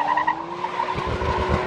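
A 1990s Nissan R32 Skyline drifting with its tires skidding, a short squealing screech over engine noise that rises into rough rumbling, close and loud with no talk.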